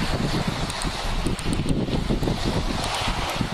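Wind roars steadily against the microphone while sea bream fishing, a dense rushing noise with gusty rustling throughout and no voices.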